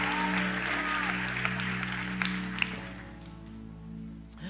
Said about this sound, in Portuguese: Dê um melhor aplauso, você pode dar ao Senhor.